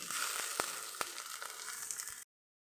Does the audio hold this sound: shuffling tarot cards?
no